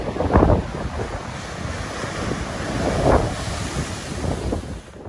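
Strong gusts of Storm Ciara roar across a British coast, a steady rushing blow with surging peaks and buffeting against the microphone, heavy surf-like noise continuing alone.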